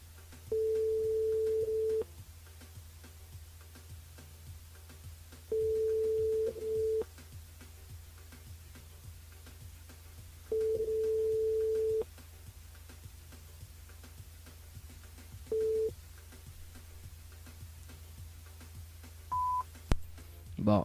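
Telephone line tones during a live radio call-in: a repeated steady ringback tone in long bursts separated by pauses, ending with a brief dialing beep, over a low constant hum.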